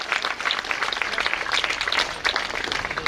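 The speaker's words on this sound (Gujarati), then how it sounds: "તાળીના ગડગડાટથી આપણે એમને વધાવી લઈએ" A crowd at a community welcoming ceremony bursts into dense, sustained applause, many hands clapping steadily throughout at moderate distance.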